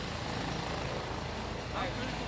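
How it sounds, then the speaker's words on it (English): A helicopter flies overhead during a press briefing on a mass shooting in Bryan, Texas, producing a steady, loud broadband rotor roar that covers the whole moment with faint talk beneath it. "The helicopter's not helping."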